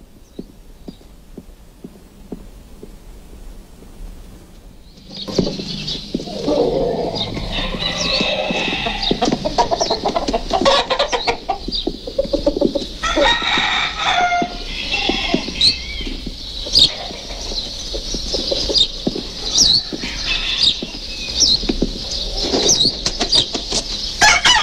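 Fighting roosters cluck and flap their wings nearby, with busy, continuous scratching and fluttering starting after a quiet opening and carrying on to the end.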